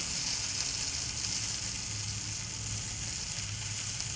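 Oil sizzles steadily around a gluten-free bajra thalipeeth frying in a pan, a close, continuous hiss with no talking.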